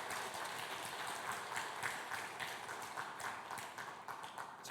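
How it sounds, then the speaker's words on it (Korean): The congregation at a Sunday worship service breaks into applause after a baptism: dense, continuous clapping with crisp individual hand strikes, fairly even in loudness and with no talking over it. "큰 박수 부탁합니다"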